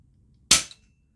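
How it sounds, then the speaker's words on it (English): A single suppressed shot from a Steyr Pro X semi-auto bullpup rifle with a Huggett moderator, one sharp crack with a short decaying tail and a faint echo, then silence. "I fire one shot."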